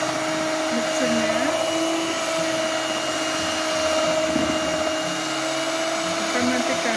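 An electric hand mixer whirs steadily and loudly while beating bolu tiwul cake batter, a constant motor drone with slight shifts in pitch as it works through the mix.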